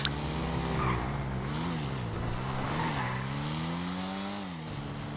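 An Annis Euro Sport car engine in GTA Online revs up and down through gear changes, its exhaust note rising and falling steadily at moderate distance.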